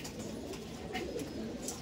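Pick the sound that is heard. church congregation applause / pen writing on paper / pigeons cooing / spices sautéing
pigeons cooing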